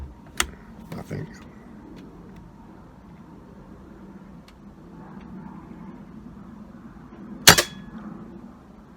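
A single sharp gunshot rings out during target shooting, close and loud, against quiet background ambience with a few faint clicks and knocks before it.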